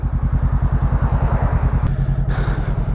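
A Honda CBR500R motorcycle idles while warming up on a cold morning, its engine thumping in a loud, even, close pulse, with a brief click and a small shift in tone near the end.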